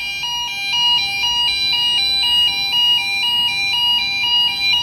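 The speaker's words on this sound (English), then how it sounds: "Zone 2 has activated. So we have a pre-alarm." Pre-alarm siren from a fire suppression system, a loud electronic tone stepping steadily between two pitches in a fast, regular alternation, continuous and with no voices.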